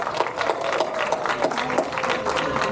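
Guests at Emily's graduation party give a round of applause, a modest cluster of clapping hands with irregular individual claps, moderately loud and continuous throughout.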